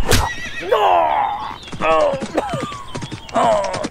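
A horse whinnies loudly and close by, with several long, quavering neighs spread across a few seconds and a short sharp knock at the very start.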